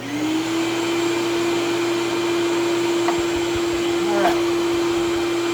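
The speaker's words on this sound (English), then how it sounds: "I will remember to turn on the shop vac." A shop vacuum runs steadily in a woodworking shop during a walnut humidor build, a loud constant motor drone with a high whine, with a couple of brief knocks and scrapes near the end.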